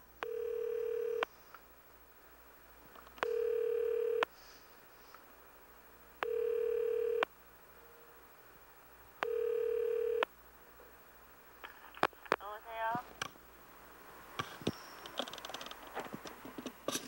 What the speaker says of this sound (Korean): 몇 번을 망설인 끝에 혜자 씨네 집에 전화를 해본다